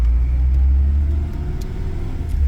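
A Tofaş Şahin car's engine runs while driving through a big city, the car shaking constantly and prone to stalling when shifted into neutral. A steady, loud, low rumble drones close up inside the cabin, with no talk.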